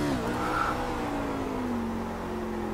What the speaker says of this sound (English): Alright, let's do the burnouts.